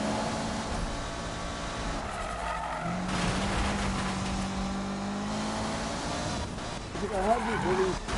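A Ferrari drifting in the Need for Speed 2015 racing game, tires squealing in a long wavering screech over a steady engine drone, with a voice talking throughout.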